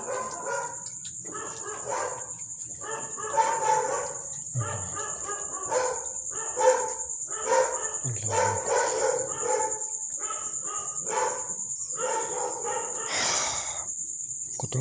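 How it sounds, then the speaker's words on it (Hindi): Many dogs bark repeatedly at a village school at night, the overlapping yaps coming in steady bursts from a short distance, layered over a constant high insect drone. "कितने ज़्यादा कुत्ते भौंक रहे हैं।"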